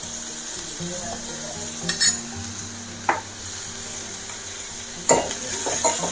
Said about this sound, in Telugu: మంచిగా ఫ్రై చేసుకోవాలి ఆనియన్స్ అంతా ఇలా